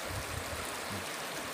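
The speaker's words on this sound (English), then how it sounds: "It's the river." A river stream in the Kenyan bush flows with a continuous close rushing and gurgling wash, steady in loudness from start to finish, with no talk.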